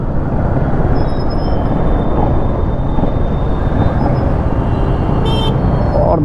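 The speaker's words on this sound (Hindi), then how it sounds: "और देखो ट्रैफिक" Loud road traffic on Gurgaon streets, a constant broad engine and tyre rumble with a few short horn toots and a brief higher honk near the end.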